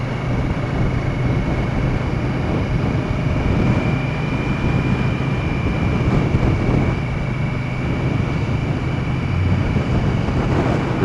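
A 2017 Victory Octane motorcycle ridden at speed-limit pace and leaned into a turn, its engine a steady continuous drone mixed with wind rush across the microphone, no voices.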